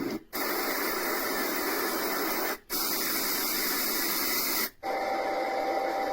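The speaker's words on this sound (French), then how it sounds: "Bruit blanc." Steady hissing white noise from a portable baby sleep sound machine plays continuously, broken by three brief silent gaps as the sound cycles, even and moderately loud with no voices.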